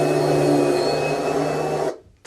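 A Kirby vacuum cleaner runs at a steady loud whine with a strong hum, then cuts off abruptly near the end, leaving near silence.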